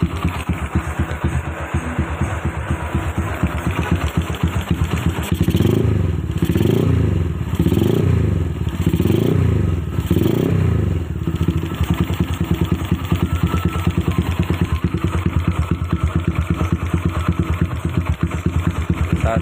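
A motorcycle engine idles after tuning of a PWK32 carburetor, running close and loud with a steady, even putter below 1000 RPM, with a brief mid-clip swell of deeper pulsing before settling back into the idle.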